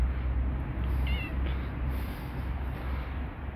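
A cat gives a couple of short, faint meows around the middle, close by, over steady low background rumble with no talking.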